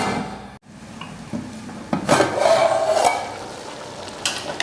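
Moong dal comes to a boil in a covered pot on the stove, giving a steady bubbling hiss with occasional clinks and knocks from the pot and lid, close by and with no talking.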